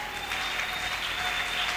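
A church congregation breaks into applause during an evening prayer service, a steady wash of clapping that fills the short moment with no voices on top.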